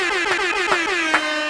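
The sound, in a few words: air horn sound effect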